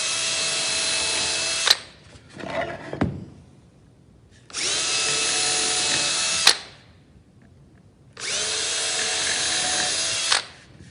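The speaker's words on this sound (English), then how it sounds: "Now we're going to drill these 8 holes." Power drill boring holes through material on a workbench, three sustained high whining runs of a few seconds each, separated by short pauses with faint handling clatter, close and loud with no speech.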